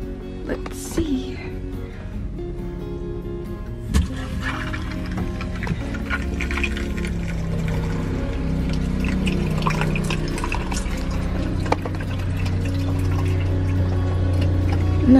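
Water runs and splashes through the plumbing of a truck camper, starting with clicks and a sharp knock and then building into a steady flowing rush that grows louder toward the end.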